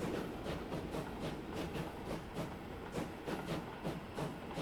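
A train rolls along the track in Transport Fever 2, giving a steady rumbling run with regular clickety-clack beats at moderate level and no talk over it.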